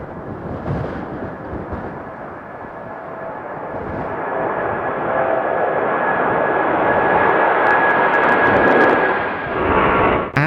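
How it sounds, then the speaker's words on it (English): A Turkish Airlines jet airliner takes off in strong crosswind, its engines a broad, steady roar that builds and stays loud throughout, mixed with rushing wind, with a faint high whine running along the top. "This Turkish Airlines plane faced strong winds, but the pilot's skill shined through with a smooth,"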